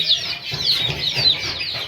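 Country chickens on a poultry farm clucking softly in short repeated calls, close by, with no talk over them.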